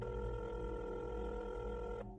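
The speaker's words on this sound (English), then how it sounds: "Beth grabbed the phone that hung on the wall above the kitchen counter, and she called her daughter, Meg." A kitchen wall-mounted telephone gives off a steady electronic dialing tone that holds evenly at low volume for about two seconds and then cuts off.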